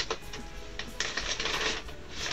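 Scissors snip through paper for a decoupage craft, a series of close, crisp cutting crunches in irregular bursts with no speech.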